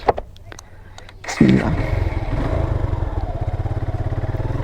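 A Suzuki Gixxer motorcycle setting off on a ride, its engine catching after a few clicks and settling into a loud, close, steady pulsing rumble that continues to the end.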